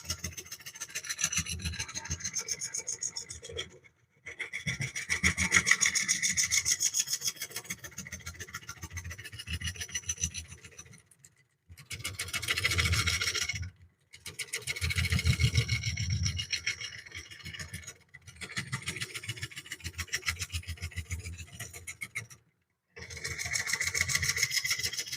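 A wood scraper rasps against a bowl spinning on a lathe, the close scratchy shaving coming in long bursts of several seconds broken by brief pauses.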